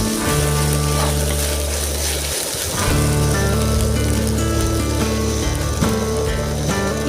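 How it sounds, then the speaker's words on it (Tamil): Ginger garlic paste sautéing with onions in a pan for a quail egg gravy, a steady loud sizzle with crackling running throughout, briefly dipping near the middle before continuing. "இஞ்சி பூண்டு பேஸ்ட் பச்சை ஸ்மெல் போற வரைக்கும் நல்லா வதக்கணும்."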